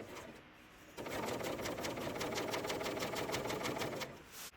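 A serger stitches binding along the edge of a quilt, starting after a quiet second and running fast with a steady, rapid mechanical chatter for about three seconds before stopping, close and unaccompanied by speech.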